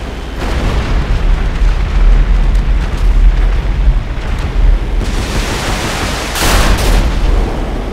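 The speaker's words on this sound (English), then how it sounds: "We're getting some really nice explosions" Loud, continuous booming explosions in GTA 5 with a WW2 mod as a Bismarck battleship is attacked, rolling one after another, deep and rumbling, with a sharper burst near the end.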